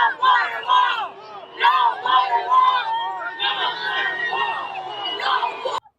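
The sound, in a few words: crowd walking, chanting and cheering at Trump border visit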